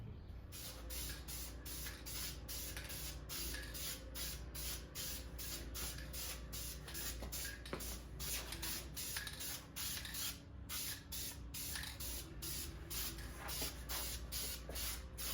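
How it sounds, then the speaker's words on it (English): A spray can hisses in a steady run of short bursts, close and fairly quiet, repeating rhythmically for several seconds, laying a light coat on a 1971 Monte Carlo SS part. "I'm going to go ahead and I'm going to spray the whole thing"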